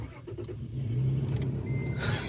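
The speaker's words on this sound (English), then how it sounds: "Let's hear this engine, Johnny." A truck engine rumbles close by, then revs up and holds a steady growl, with a brief higher rasp near the end.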